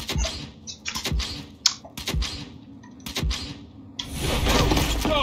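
Rapid computer keyboard typing and mouse clicking during Gears 5 play, bursts of keystrokes and clicks spread through the stretch, with a rising wash of game noise near the end.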